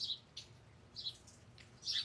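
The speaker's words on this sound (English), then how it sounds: "Listen to the birds." Birds chirp in short, bright bursts spread across the clip, fairly faint with a quiet low background hum and no talking.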